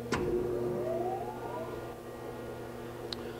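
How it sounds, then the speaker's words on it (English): The grinding wheel of an Okamoto 20 x 48 inch hydraulic surface grinder spins up with a rising whine that levels into a steady hum over the running hydraulics. "I'll go ahead and start the grinding wheel."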